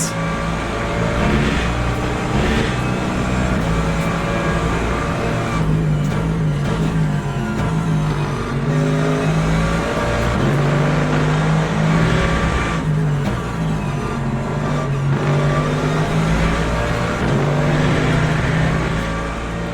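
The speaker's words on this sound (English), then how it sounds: "You've gotta love that dirty AMG engine note." A Mercedes-AMG GT3 race car engine in the game Le Mans Ultimate roars continuously and loud for the whole stretch, its pitch rising and falling through gear changes with no talking.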